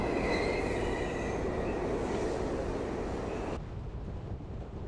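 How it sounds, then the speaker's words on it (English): A World of Warcraft train rolls into a station with a loud, steady rumble and a high squeal of wheels, then the noise drops suddenly as it settles, with no one talking. "Please stay behind the yellow line until the train comes to a complete stop."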